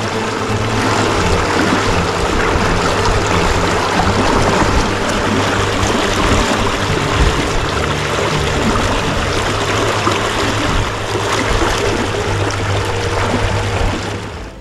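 A Raptor boat motor running at full throttle, a loud continuous engine drone with steady low tonal hum and rushing water spray, sustained evenly for about fifteen seconds with no talk.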